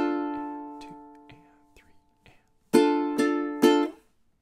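A ukulele plays measures 19 and 20 of a surf tune: a few ringing, sparse plucked notes, then three bright, louder strums that ring out and fade, close and alone.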